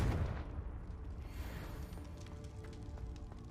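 A Confringo fire spell blast in Hogwarts Legacy, heard as a loud booming burst at the start, then a rumbling fiery roar that sustains and slowly fades over a few seconds, with no talking.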